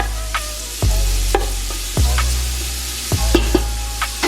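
Turkey and bacon cook in a pot that once held pasta noodles, a steady frying sizzle broken by a few sharp knocks and scrapes of stirring, close and fairly loud, with no talking.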